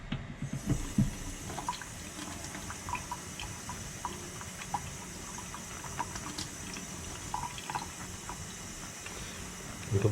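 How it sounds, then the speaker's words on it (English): Water runs steadily from a tap into a kitchen sink during hand-washing of a shirt with dish soap, a soft continuous trickle with small clinks and splashes throughout. "I'm going to put some water."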